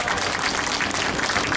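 Audience at a rally for non-regular workers applauds, a brief burst of dense, steady clapping with no voices over it.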